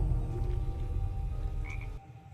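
A frog croaks in a Book of Boba Fett episode, a low continuous croaking rumble, fairly faint, under a steady background hum that cuts off near the end.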